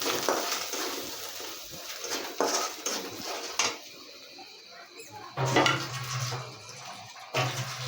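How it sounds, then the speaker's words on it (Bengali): Spice paste with turmeric powder fries in a pan, a soft sizzle broken by repeated spoon scrapes and clinks against the metal as it is stirred. "হাফ চা চামচ হলুদের গুঁড়া দিয়ে মশলাটাকে আমি আরেকটু ভাজবো"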